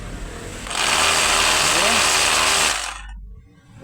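A Black & Decker sander with rewound motor windings and a fixed blower switches on and runs in a steady, loud electric whine for about two seconds, then winds down. A voice speaks briefly.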